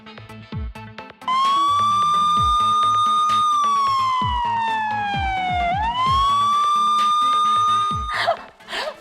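A voice imitates an ambulance siren, a loud sustained wail that sweeps slowly down and back up, with a few short broken sounds before and after.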